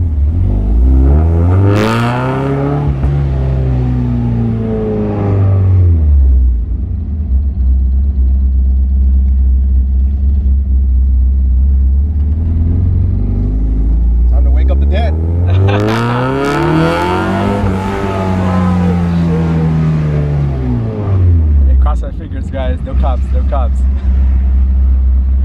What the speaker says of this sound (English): the engine sounds amazing just idling, but yeah, let's go for a drive and see how it sounds.